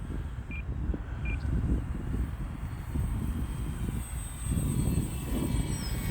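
An E-flite Valiant 1.3m RC airplane climbs at about three-quarter throttle, its electric motor a steady, distant drone that swells slightly, mixed with outdoor wind noise.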